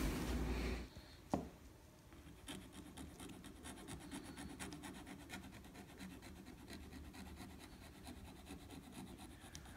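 A metal file works the tone hole of a Boehm system G clarinet, a Turkish clarinet, making quiet, steady rasping strokes in close range after a brief louder knock, with no talking.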